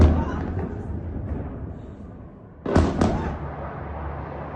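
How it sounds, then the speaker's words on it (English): Bomb explosions in Tehran: a steady low rumble runs throughout, then two sharp bursts land close together near the end, the second almost on top of the first, before the rumble settles back. "there more videos of bombs in Tehran?"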